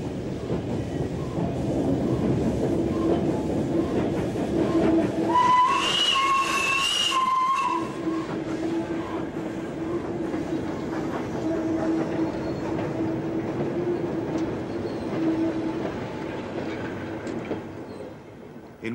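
An L.N.E.R. steam locomotive hauls a demonstration train on a heritage railway, a steady rolling rumble of carriages with a brief whistle-like tone in the middle, fairly near.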